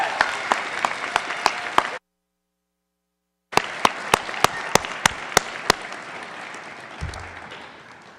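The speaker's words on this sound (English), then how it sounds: "Let's give her one more round of applause." Graduation applause from a crowd fills the space with dense clapping and sharp individual claps on top. It briefly cuts out and then resumes before tapering off.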